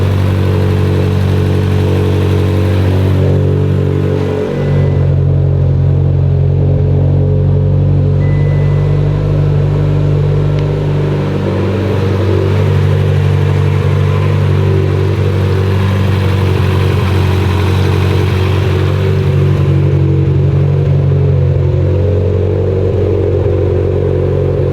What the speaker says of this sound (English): Fired it up, and then I told Bobby to hit the gas a little bit, and somehow the pedal got stuck down